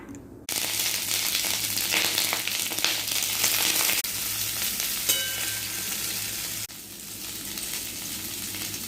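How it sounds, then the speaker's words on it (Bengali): Cauliflower and raw banana fry in a pan with hot oil, a loud, close, continuous sizzle that starts abruptly, with stirring scrapes and a couple of sudden shifts in intensity. "ফুলকপি কাঁচা কলা ভেজে নিয়েছি"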